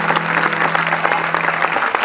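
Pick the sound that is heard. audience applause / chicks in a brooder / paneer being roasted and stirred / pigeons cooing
audience applause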